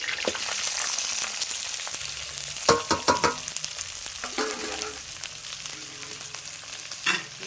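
Onions frying in a pan with whole garam masala, a steady broadband sizzle punctuated by a few sharp crackles and pops, close and fairly loud with no talking.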